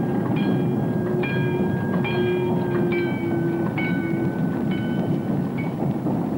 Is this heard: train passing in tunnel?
yes